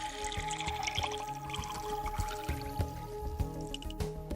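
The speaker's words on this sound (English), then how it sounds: "Add a small amount of distilled water to it." Distilled water is added to a 1 liter standard flask holding weighed nickel chloride hexahydrate, giving soft close trickling and dripping sounds under steady background music.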